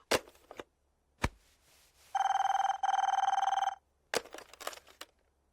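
Two bursts of a loud, bright landline telephone bell ring in succession, set between sharp clattering knocks and a short voice.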